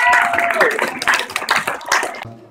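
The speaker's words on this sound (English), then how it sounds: "let's give these guys a round of applause." Audience clapping close and fairly loud, a dense burst of applause with voices mixed in that cuts off abruptly near the end.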